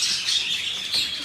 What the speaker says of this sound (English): There's a big bird.